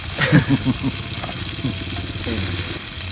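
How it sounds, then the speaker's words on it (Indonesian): Peda fish fries in a pan at a bamboo-forest campsite, giving a soft, steady sizzle with a few brief clatters near the start and some faint background noise. "Goreng peda aya opat gitu ya"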